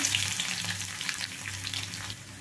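Crushed garlic, mustard seeds and lentils crackle in hot frying oil, a close, steady sizzle with small pops and light stirring throughout.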